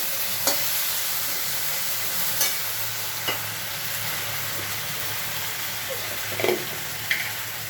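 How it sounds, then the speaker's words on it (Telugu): Okra pulusu simmering with chilli powder and coriander powder stirred in, a steady soft bubbling hiss with a few sharp clicks of a spoon against the pot, no one talking. "తర్వాత కారము, ధనియా పౌడరు 2 వేసి కలిపి మళ్ళీ మూత పెట్టి మగ్గనివ్వాలి."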